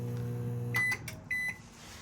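A microwave oven in a 2023 Intech Sol Horizon camper trailer hums steadily, then stops with a clunk and gives two short electronic beeps, close by with no talk.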